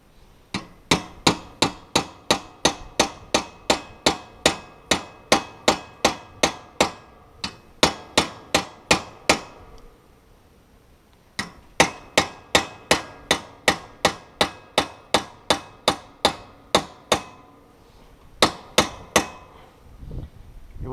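Repeated hammer blows ring out during a travel trailer floor repair, a close, loud, steady run of sharp strikes broken by a pause, then another run and a final few hits.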